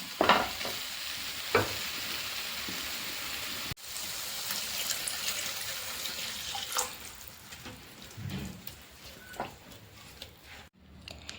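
A cup of water pours into a pan of sautéed tomatoes, the sizzle softening into a bubbling, watery hiss as a spoon scrapes and stirs, close and moderately loud.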